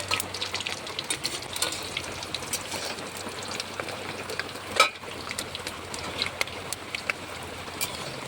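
Homemade potato chips frying in oil in a wok on a gas stove, a steady soft sizzle with scattered crackling pops and one sharper clatter midway.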